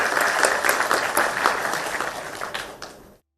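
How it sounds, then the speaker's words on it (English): Dense applause from the audience at a 2021–22 MBBS orientation program, loud and continuous from the start, gradually tapering before cutting off abruptly near the end. "Can we give all our chief guests a thunderous round of applause, everybody?"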